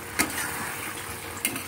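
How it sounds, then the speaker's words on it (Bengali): Punjabi tarka stirred and mixed in a pan, a close soft sizzle with two brief spoon scrapes or knocks against the pan, no one speaking. "এবার আবার একটু ভালো করে মিশিয়ে নিতে হবে।"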